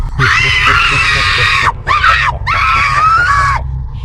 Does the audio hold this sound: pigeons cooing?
no